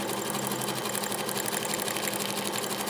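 A sewing machine runs steadily while stitching a table runner, a fast continuous whirring hum at even speed, close and loud with no talk.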